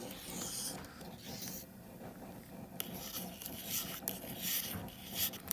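Spoon scraping and stirring beer wort around the sides of a boiling brew pot for a witbier, a steady near rasping rub with broadband noise and no talk.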